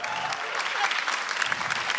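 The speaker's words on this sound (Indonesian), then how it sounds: "Tepuk tangan dong." Steady, dense applause from a stand-up comedy audience, continuous and fairly loud for the whole stretch with no talking over it.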